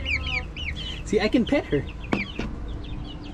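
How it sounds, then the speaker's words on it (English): A large hen clucks in short low bursts close by in a backyard garden, while a person talks softly over her and a rooster-like call sounds faintly in the background. "you're a nice chicken. You're a big chicken."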